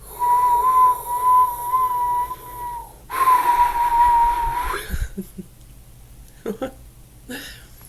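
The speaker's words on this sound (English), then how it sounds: "It's called deep whistle breathing." A person demonstrates deep whistle breathing: a long steady whistled exhale, a short pause, then a second breathier whistle, followed by soft breaths and faint clicks, close and alone.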